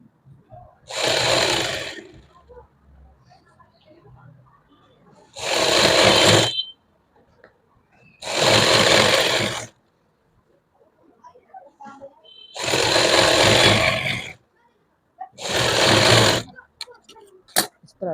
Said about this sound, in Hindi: अब इसको ऊपर की तरफ हम सिलाई लगा देंगे।